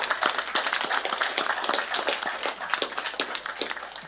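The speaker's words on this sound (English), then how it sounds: "let's do a little applause for Sue." Steady applause from the audience at a county Board of Supervisors meeting: many hands clapping at once in a dense, moderately loud patter that lasts several seconds with no speech.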